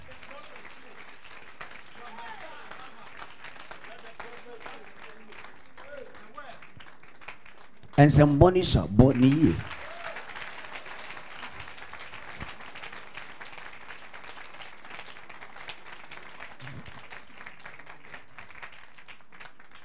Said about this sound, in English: Clap for Jesus here.